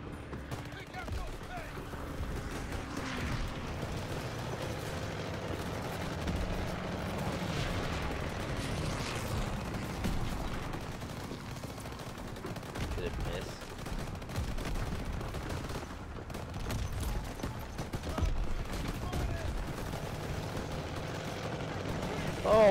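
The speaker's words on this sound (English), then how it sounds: "That's calling an airstrike." Airstrike explosions and gunfire rumble continuously through a Call of Duty WWII battle, a dense, loud barrage of booms and blasts with voices talking over it.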